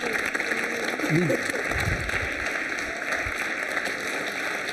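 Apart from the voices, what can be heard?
audience applause for contestant Shilpi Shah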